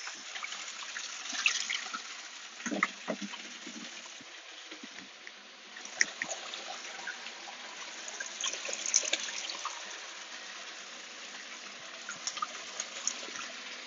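Mountain spring water flows and trickles steadily, a close, constant splashing with small irregular gurgles throughout.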